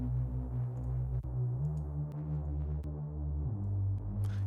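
A deep, droning slap house bass synth tone with a gritty, distorted edge sustains and shifts pitch slightly, playing alone with faint clicks.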